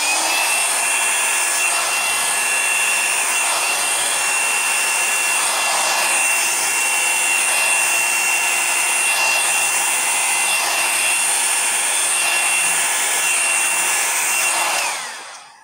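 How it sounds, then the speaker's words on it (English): A hair dryer fitted with a diffuser, set on high, blows fluid acrylic paint across a canvas in a heart-shaped pour, giving a loud, steady, continuous whoosh that runs for the whole stretch and cuts off abruptly at the end. "Then I put the diffuser back on and I just start in the center and I just kind of blow to the edges and go all the way around the canvas."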